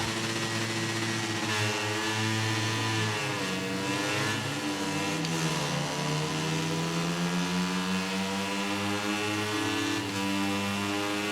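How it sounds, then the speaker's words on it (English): A motorcycle engine in the MotoGP 19 racing game revs continuously through wet track conditions, its loud, steady whine rising and falling with gear changes and shifting pitch throughout, with no talk over it. "See Arden revving it up."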